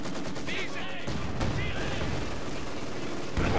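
Gunfire in the World War II strategy game Company of Heroes 2, with rapid bursts of rifle and machine-gun shots crackling over continuous battle noise. Someone talks over the shooting.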